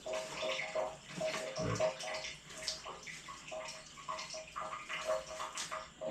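Water from a drinking supply is poured over a runner's body during a run, making a continuous splashing patter with small irregular bursts, moderately close and fairly quiet.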